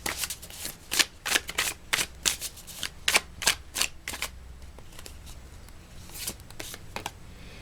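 Tarot cards being shuffled by hand, a close run of crisp riffling bursts in an uneven rhythm that thins out toward the end, with a quiet background between bursts.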